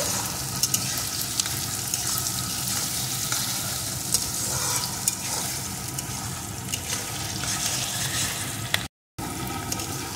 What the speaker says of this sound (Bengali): এখন পেঁয়াজ রসুনটাকে কিছুক্ষণ ভেজে নেব।